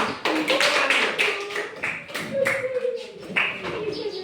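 Classroom patterned clapping game, with bursts of claps in a rhythmic sequence alternating with a teacher's spoken cues and children's voices chanting along, fairly close and lively.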